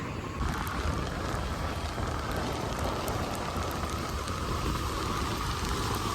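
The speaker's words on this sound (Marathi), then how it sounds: "पाठी एवढा पाऊस चालू आहे ना" Heavy, steady downpour drumming on surfaces, dense and continuous from start to end, loud and close with no talk over it.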